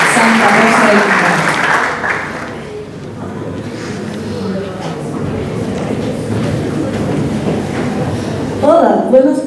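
An audience at a school theater and expressive-therapy launch event gives a short burst of applause to welcome a speaker; the clapping fades within a few seconds, leaving murmuring room noise and then a voice starting to speak.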